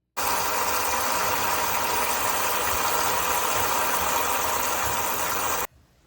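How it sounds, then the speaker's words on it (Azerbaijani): Water runs steadily from a tap in a kitchen while a weight-loss salad is being prepared, a loud, even broadband rush lasting several seconds that stops abruptly near the end. "Sizi suyun səsiyle baş-başa qoyduqdan sonra davam edirəm."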